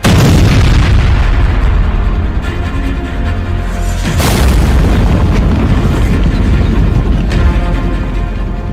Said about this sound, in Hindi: या फिर जेलेंस्की ने कर दिया लॉन्ग रेंज मिसाइल का धमाका?